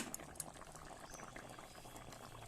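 Fish curry, a Bengali recipe made with bhangan fish, bubbling steadily in a pot, a dense continuous simmering burble at moderate volume with no voices.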